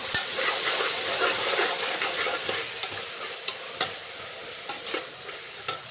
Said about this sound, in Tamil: இஞ்சி பூண்டு பேஸ்ட்டு கொஞ்சம் சேர்த்து போட்டால் தான் பிரியாணி நல்லாயிருக்கும்